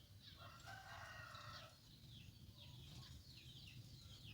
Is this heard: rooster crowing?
yes